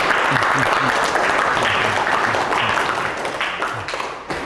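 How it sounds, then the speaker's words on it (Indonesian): A class applauds a student group after its presentation in a ninth-grade civics lesson, giving loud, dense clapping that carries on evenly for several seconds and tapers slightly at the end. "Tepuk tangan dulu untuk kelompok agamis."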